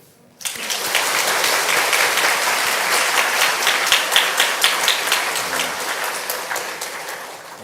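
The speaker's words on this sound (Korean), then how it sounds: "모든 하남교회 형제 자매들 축하하는 박수" A church congregation applauds at a church dedication ceremony, clapping starting abruptly after a brief quiet moment and continuing loud and steady, with distinct individual claps growing more rhythmic toward the end.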